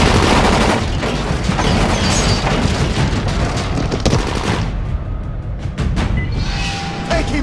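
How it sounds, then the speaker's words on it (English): Sustained loud gunfire in the video game Dying Light, dense bursts of rapid shots and booms that go on for several seconds before thinning out into scattered single reports. "Shoot him!"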